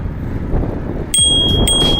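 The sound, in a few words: bicycle bell ringing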